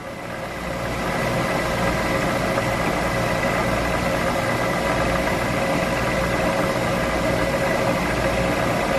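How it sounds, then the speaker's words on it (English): A milling machine spindle spins up and runs steadily, giving a close, continuous mechanical hum with a whining tonal edge that holds level after the first second, with no talking. "Turn the spindle on, pulse it on a couple times."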